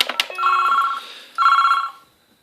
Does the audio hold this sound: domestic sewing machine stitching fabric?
no